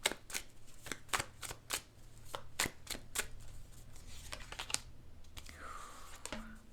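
Tarot cards shuffle in a quick run of crisp flicks and snaps, followed by a softer slide as a single card is drawn, all close and fairly quiet with no voice.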